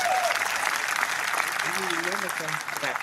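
Spectators at a golf tournament clap in a sustained, even patter from a distance, with a commentator's voice speaking over the applause toward the end.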